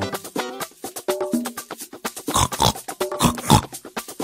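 Cartoon pig oinking repeatedly in a storybook animation of The Gingerbread Man, a loud rapid series of grunts and squeals, alone with no talk.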